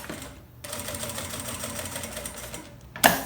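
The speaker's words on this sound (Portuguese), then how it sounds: "E eu vou passar aqui uma costura, prendendo esse forro no meu principal." A sewing machine runs in one steady burst, stitching a fabric lining to the main outer piece of a shampoo-holder toiletry bag, a close, even mechanical whir that stops and ends with a sharp click.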